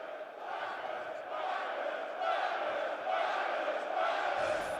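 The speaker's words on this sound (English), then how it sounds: "the UK crowd has finally come to life here in Birmingham" A UK crowd roars and cheers at the Call of Duty major in Birmingham, a broad, sustained swell of voices that grows louder through the moment, heard at some distance.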